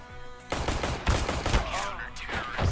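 Gunfire in a shooter video game: rapid, loud bursts of shots crackle through the clip, mixed with game sounds and a voice speaking underneath.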